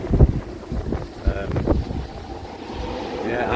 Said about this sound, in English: Got a bit gusty now.